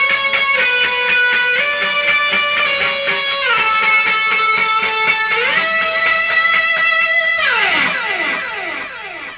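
Distorted electric slide guitar solo through a compressor, Rat distortion, MicroAmp boost and delay, with gliding sustained notes stepping upward and sliding down at the end, loud and continuous without talk.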